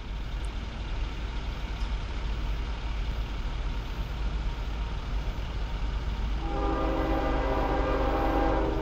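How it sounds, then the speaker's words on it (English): Steady rumbling roar of a passing CSX freight train in South Plainfield, New Jersey, then a loud multi-tone horn blares in over the last couple of seconds. "lay on that horn"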